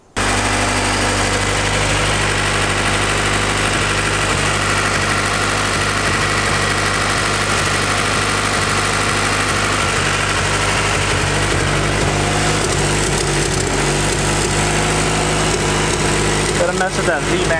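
A car engine turns over and settles into a loud, steady rumbling idle close by, running continuously without a break.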